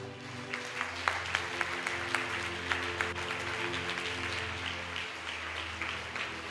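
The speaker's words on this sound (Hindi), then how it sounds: "जोरदार ताली।" Moderate applause from a congregation at a Christian healing prayer meeting, a steady patter of clapping over a low sustained music drone, fairly even throughout.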